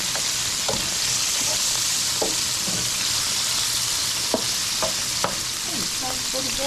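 Shrimp frying in a pan with eggplant, a steady loud sizzle throughout with occasional sharp clicks and taps of stirring.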